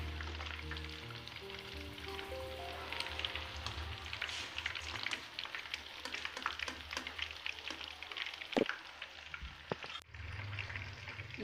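Chicken pieces frying in a generous amount of oil for orange chicken, giving a steady, dense sizzle with crackling pops throughout, plus a few sharper clinks near the end.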